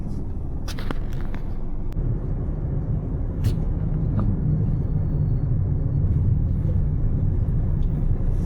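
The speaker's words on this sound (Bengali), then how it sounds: "এই গাড়ি স্টার্ট দিলাম, এক চান্সে স্টার্ট হয়ে গেল, এই গিয়ারে ফেললাম।" A second-hand car's engine idles and runs steadily on a test drive after a first-try start, giving a continuous low rumble close by with a few faint clicks and knocks over it.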